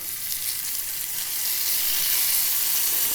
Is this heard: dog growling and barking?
no